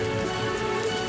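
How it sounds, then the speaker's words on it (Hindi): Heavy rain falling on crops in a farm field, a dense continuous patter of drops, steady and close with no talk. "अचानक तेज बारिश शुरू हो गई।"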